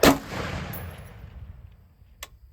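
A single rifle shot fired at a shooting range while testing a CVLife EagleBlaze LPVO scope, a sharp loud crack followed by a long rolling echo that fades away, with a faint distant impact or click near the end.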